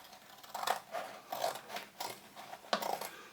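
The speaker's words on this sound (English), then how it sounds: "This leather is so old and dry that these scissors seem to be cutting it okay." Scissors snip through old, dry, stiff leather in a series of crisp, uneven cuts, close and fairly quiet, with short pauses between strokes.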